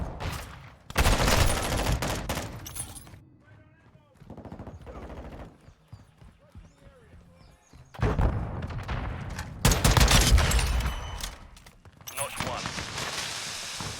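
A Lockwood MK2 sniper rifle loaded with incendiary rounds fires in Call of Duty: Modern Warfare II amid loud, dense gunfire and booming shots that come in heavy waves, with a voice talking over parts of it.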